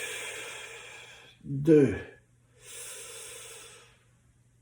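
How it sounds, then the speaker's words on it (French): A single deep breath during a back exercise, a slow drawn hiss followed by a breathy release, close and quiet, with a voice counting around it. "Prendre une grande respiration"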